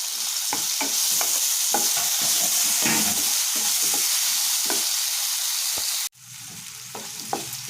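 Tomato pieces fry in a pan with a bright, constant sizzle, broken by repeated scraping stirs. The sizzle drops away abruptly near the end, leaving quieter frying and scraping.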